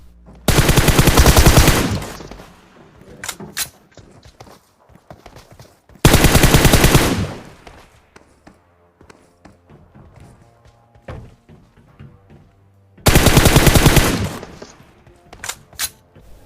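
Three long bursts of rapid automatic gunfire in a video game, fired from a metal tower, loud and close, separated by scattered single shots and thuds.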